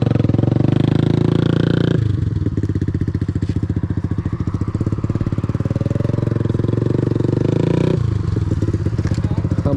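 Motorcycle engines run loud and close; a Yamaha R, Beta 350 RR and GSX 1000 are present, with a rough, steady idle chugging throughout and a sharper, revving section in the middle.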